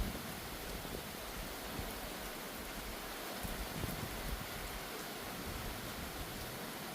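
Rain falls outdoors at Barr Lake State Park in Colorado, a steady, even hiss that fills the whole stretch with no voices.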